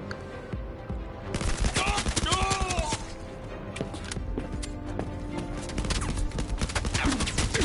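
Dense bursts of rapid gunfire in the VR shooter Blood & Truth, loud and close, layered with clattering game effects and mechanical tones, with a voice speaking briefly at points.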